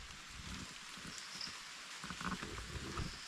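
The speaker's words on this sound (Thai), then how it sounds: "น้ำฝนเนี่ยตกลงมาแบบปล่อยๆอีกแล้ว" Rain falling steadily under a dim evening sky at a forest camp, a soft continuous hiss of drops on surfaces with no voices over it.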